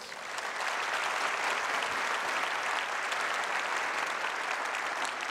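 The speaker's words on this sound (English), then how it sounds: "would you give them a hand clap of praise?" Audience applause at a church gathering, dense and even clapping from a sizable crowd that swells in quickly and stays steady and loud throughout.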